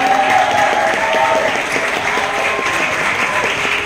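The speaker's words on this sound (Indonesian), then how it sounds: "Boleh tepuk tangan untuk teman-teman semua." An audience applauds the cast after a preview of the Keluarga Cemara stage musical, a full, sustained wash of clapping at a steady loud level throughout, with faint voices mixed in.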